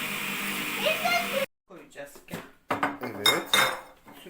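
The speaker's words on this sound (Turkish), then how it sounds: "Bir daha karıştıracağım." Clinking of a utensil against a jug while lemonade is stirred at home, bursts of metallic and glassy scraping with a pause midway, children's voices talking close by.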